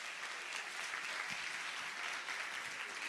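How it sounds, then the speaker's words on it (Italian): Steady applause from a crowd at an award ceremony, a dense wash of clapping that holds evenly throughout. "un altro applauso lo propongo per questo aspetto"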